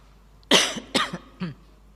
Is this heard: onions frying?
no